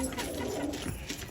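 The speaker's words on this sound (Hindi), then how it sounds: "ये कबूतर जो हैं ये दाना खा रहे हैं" Shirazi pigeons coo softly while pecking at grain, a low continuous murmur of cooing close by with faint rustling and no clear breaks.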